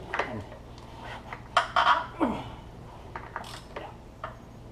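Socket wrench on a wobbly extension loosening the oil drain plug of an Audi A4 2.0T, giving a few close ratcheting clicks and metallic clanks in short irregular bursts.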